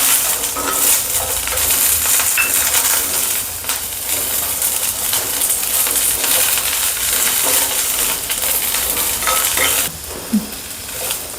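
Green chillies hitting a pan of hot oil for a Marathi-style palak chicken, loud continuous sizzling and frying with spoon scraping and stirring throughout, no talk.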